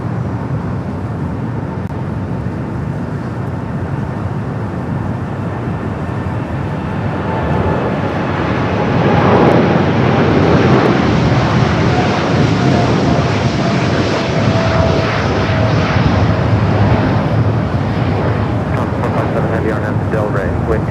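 A Boeing 747 rolls down runway 25 left at LAX for takeoff, its jet roar swelling louder and fuller as it accelerates, heard from a distance under radio air traffic control chatter.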